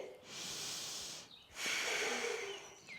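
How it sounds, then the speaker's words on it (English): A slow, deep inhalation through the nose during a yoga flow in warrior two, soft and close, repeated as two long airy breaths separated by a brief pause. "breathe in"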